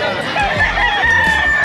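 Hens and roosters crow and cluck close by at a crowded pet market selling breeding hens and gamefowl, a loud, continuous barnyard clamor over background bustle.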